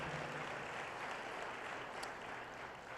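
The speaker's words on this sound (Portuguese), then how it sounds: "Você pode aplaudir o Senhor Jesus" A congregation claps during a church service, producing a faint, steady wash of applause that holds evenly for a few seconds without voices.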